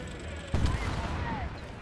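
A mortar cannon in a pirate video game fires with one sudden heavy boom followed by a rumbling tail, under a faint whistling background, with no talking.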